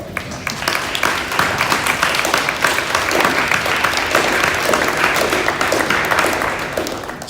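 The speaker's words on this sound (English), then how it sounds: "give them a hand of applause for their sacrifice" A standing audience at a high school alumni reunion applauds veterans, with sustained dense clapping filling the room, loud and even from start to finish.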